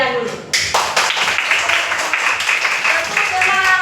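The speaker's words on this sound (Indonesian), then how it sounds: "tepuk tangan buat anak-anak kami sekalian dulu" Children clapping together in a classroom, a dense patter of hands filling the space, with voices calling out over it.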